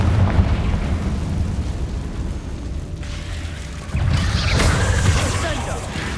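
Bombarda and Confringo spells blast in Hogwarts Legacy as one continuous loud rumble of booms and crashing debris, with a fresh surge of blasts midway and no clear gap between them.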